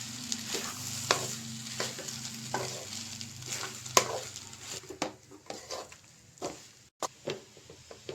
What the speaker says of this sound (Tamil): இப்போ நல்லா மிக்ஸ் பண்ணிக்கலாம்.